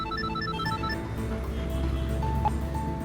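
A telephone rings steadily with repeated high electronic tones, continuous over a low background hum; no one speaks.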